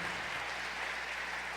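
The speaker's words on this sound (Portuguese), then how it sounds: "Você pode ficar em pé e dar um forte aplauso ao Senhor Jesus" A church congregation applauds in worship, a continuous, full-bodied roar of clapping that stays even and steady from start to finish over a low hum.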